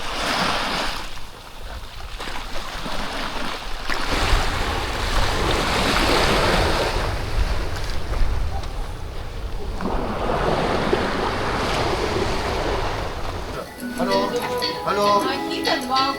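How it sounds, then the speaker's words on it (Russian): Red Sea waves surge and wash onto the shore at a Sharm el-Sheikh resort in slow, repeating swells, with wind noise, and voices and music come in near the end. "просто наслаждаемся, слушаем шум моря"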